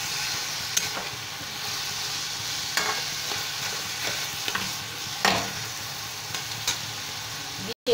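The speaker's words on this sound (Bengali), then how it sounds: "এবার সমস্ত উপকরণগুলো ভালো করে নাড়িয়ে" Bottle gourd with salt and sugar is stirred in a frying pan: a constant soft sizzle runs throughout, with occasional spoon scrapes against the pan, close by and without speech.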